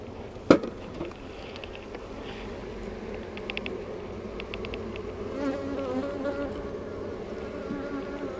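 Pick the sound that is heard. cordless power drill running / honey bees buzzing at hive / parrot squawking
honey bees buzzing at hive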